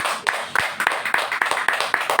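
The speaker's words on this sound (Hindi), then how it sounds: "और जोर से ताली बजाओ यीशु के लिए।" A church congregation claps for Jesus in a steady, evenly spaced beat, about three claps each second, over a constant murmur of room noise.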